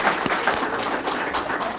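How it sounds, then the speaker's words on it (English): A brief burst of audience clapping at a probation officer academy graduation ceremony, continuous and fairly loud throughout. "Please join me in a round of applause."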